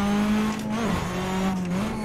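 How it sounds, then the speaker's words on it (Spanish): A Citroën Xsara rallycross car slides sideways through a corner on the Jaizkibel hill climb, its engine holding a steady loud drone with a brief dip in pitch partway through, with no talking. "Se desliza mucho de atrás, que realmente es como hay que llevar estos coches."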